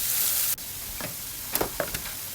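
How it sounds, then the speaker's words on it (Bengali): Bitter gourd frying in oil with green chili, turmeric and salt, a steady sizzle at first that drops away, followed by a few scattered stirring clinks and scrapes in the pan. "একটু কাঁচামরিচ, হলুদ, লবণ আর তেল দিয়ে আমি ভাজিটা করে নেব।"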